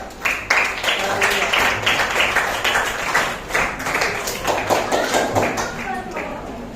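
A classroom of people claps at once, dense and continuous applause for several seconds, with some chatter mixed in and tapering slightly at the end.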